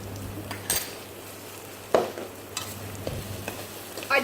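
Onions frying in oil in a pan for beef stroganoff, giving a soft steady sizzle with a few close clinks and scrapes of a utensil stirring against the pan.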